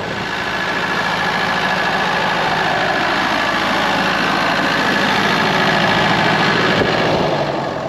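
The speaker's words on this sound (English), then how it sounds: "I'll just turn off the generator." A generator runs loud and close with a steady low engine drone and vibration for the whole stretch, easing only slightly at the very end. No one speaks.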